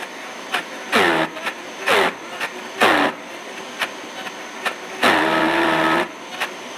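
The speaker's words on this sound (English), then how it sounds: "I know that sound sounds scary, but it's the Vitamix working." A Vitamix blender roars in short, loud bursts, revving hard for about a second each, with quiet gaps between and one longer grinding run.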